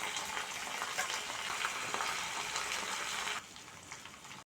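Garlic, cumin, mustard seeds and curry leaves fry in hot oil for tomato pachadi. A close, steady crackling sizzle runs throughout and drops slightly near the end.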